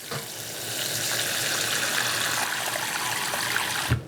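Filtered tap water pours steadily into a glass or steel bowl to cover rinsed ingredients, a close continuous splashing stream that runs for about four seconds before cutting off, with no talking.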